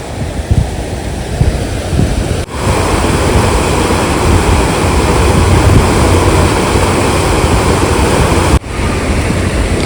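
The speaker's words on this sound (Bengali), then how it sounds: "এটা নদী বয়ে যাচ্ছে। এই নদীটার নাম হচ্ছে ঋষি নদী।" The Rishi river in Rishikhola, Sikkim, rushes beneath a bridge with a steady, loud broadband roar of flowing water, continuous through the clip with two brief dropouts and no talking.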